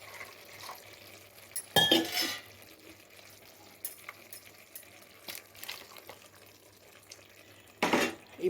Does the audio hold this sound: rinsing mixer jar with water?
yes